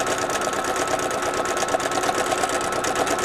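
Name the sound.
sewing machine stitching a zipper pouch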